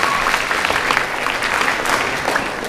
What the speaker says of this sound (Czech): prosím o tlesk